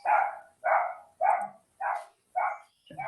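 A dog barks six times in a steady, evenly spaced rhythm, loud and close, with short silences between each bark.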